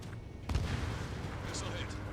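Missile launch in the combat flight game Ace Combat 7: Skies Unknown, a sudden whooshing burst that rises over the steady roar of jet engines and then carries on as a dense rumble, with a voice speaking over it.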